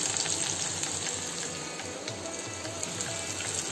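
Steady sizzling and crackling of shallots sautéing in hot oil with mustard seeds, a continuous close hiss with faint scraping as they're stirred.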